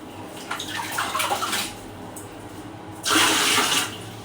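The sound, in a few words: water running from a tap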